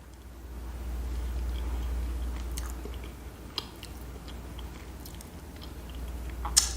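Someone chews a spoonful of homemade lentil stew close to the microphone, soft wet mastication with a few crisp clicks, no talking.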